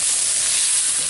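Unsalted butter, half a stick, melting in a hot pan, giving off a steady, dense sizzle and hiss that holds even and fairly loud throughout, with no talking over it.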